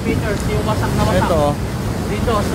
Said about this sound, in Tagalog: medyo lumalakas na naman yung alon